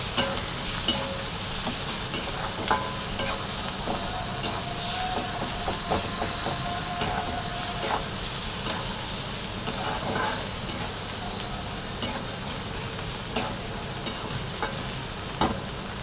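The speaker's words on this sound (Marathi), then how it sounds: "हळद घालून घेतल्याच्यानंतर नंतर ते छान मिक्स केले" Cauliflower sprinkled with turmeric sizzles and fries in a pan, stirred steadily, with a spoon scraping and clinking against the pan now and then over a constant crackle.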